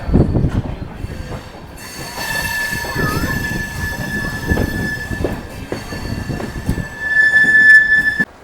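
The Thoothukudi–Mettupalayam bi-weekly express rolls along, heard from on board with loud continuous rumbling, rhythmic wheel clatter and a sustained high squeal of wheels on the rails.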